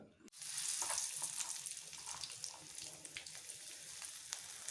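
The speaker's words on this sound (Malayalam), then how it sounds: "അതിലേക്ക് എണ്ണ തിളച്ച ശേഷം കടുക് മൂപ്പിച്ച് നമ്മൾ ഇൻഗ്രീഡിയൻസ് എല്ലാം കൂടെ അതിലേക്ക് ആഡ് ചെയ്ത് വഴറ്റിയെടുക്കുക" Mustard seeds and chopped green chilli, ginger, garlic and curry leaves fry in hot oil for lemon pickle, giving a soft, continuous sizzle with small crackles and pops, fairly faint and close.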